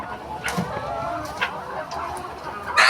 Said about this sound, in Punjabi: ਇਹ ਕੜਕਨਾਥ ਹੈ ਜੀ ਕੜਕਨਾਥ ਮੁਰਗਾ